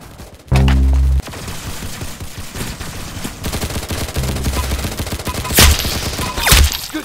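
Gunshots in the Roblox shooter Arsenal: a loud, blunt blast opens, followed by a busy, noisy stretch with a couple of sharper shots near the end.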